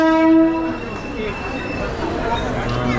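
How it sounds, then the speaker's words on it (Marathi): The Mandavi Express runs along, its horn sounding loudly at the start before fading into a steady rumble of the moving carriages, with voices faintly underneath. "ट्रेन चालली आहे"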